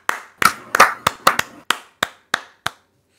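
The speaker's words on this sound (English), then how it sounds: "a round of applause for this game" Slow, sparse clapping from a single pair of hands, about nine sharp claps spaced unevenly and fading out, with no voices.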